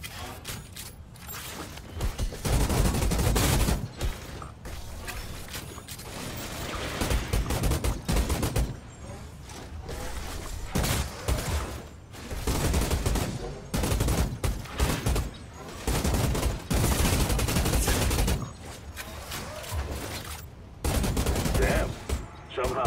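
Rapid pistol gunfire crackles through a sci-fi shooter battle in Outriders, dense volleys of shots with loud bursts recurring throughout, mixed with clanking mechanisms and occasional talk in the background.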